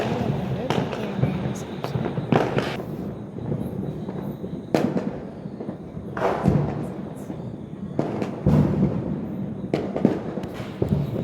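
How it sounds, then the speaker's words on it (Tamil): Sharp bangs of Diwali firecrackers burst at irregular intervals, some near and loud, others fainter, over a steady background with voices mixed in. "பட்டாசு அடிச்சிட்டோம்"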